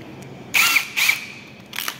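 A CNC machine drills with three short, harsh bursts of high-pitched cutting noise, the first two close together and the last a little later and softer, with quiet pauses between them.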